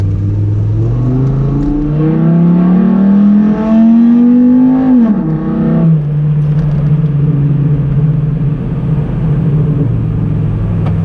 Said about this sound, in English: I'm in love with how the 5-cylinder sounds.